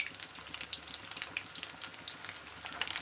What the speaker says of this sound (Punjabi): ਲਓ ਜੀ ਆਪਣਾ ਤੇਲ ਹੈਗਾ ਰੈਡੀ ਹੁਣ ਪੂਰਾ ਸਿਰੇ ਦਾ ਬਣ ਗਿਆ ਗਰਮ ਹੁਣ ਇਹ ਚ ਆਪਾਂ ਪਾਵਾਂਗੇ ਕਰੇਲੇ